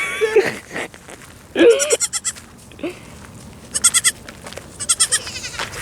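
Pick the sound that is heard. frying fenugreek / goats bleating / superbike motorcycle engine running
goats bleating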